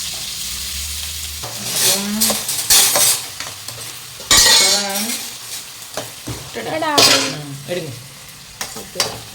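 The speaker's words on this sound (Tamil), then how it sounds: "அப்போ இப்போ எனக்கு வந்து வெங்காயம் சேர்த்துக்கலாம்" Onion frying in a hot pan while being stirred, loud crackling sizzle broken by repeated scraping strokes of a spoon against the metal.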